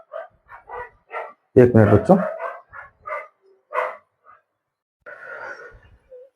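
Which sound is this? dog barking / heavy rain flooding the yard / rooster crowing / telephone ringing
dog barking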